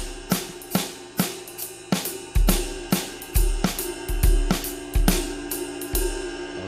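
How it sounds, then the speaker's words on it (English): Drum kit groove with bass drum on steady eighth notes and snare cracking on quarter notes, close and loud, a repeating even rhythm with cymbal wash above and no voices. "Eighth notes bass drum,"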